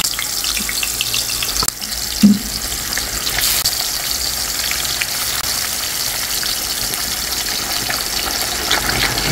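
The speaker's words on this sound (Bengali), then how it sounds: "তেল গরম হয়ে গেছে, দিয়ে দিচ্ছি মিষ্টি কুমড়া" Pumpkin pieces fry in hot oil with a loud, dense, continuous sizzle, close up, broken only by a couple of brief knocks near the start.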